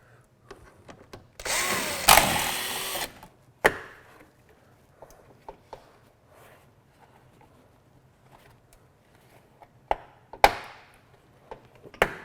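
A power tool whirs for about a second while backing out Torx screws from the inner fender of a 2014 GMC Sierra, followed by scattered close clicks, clunks and handling taps with quiet gaps.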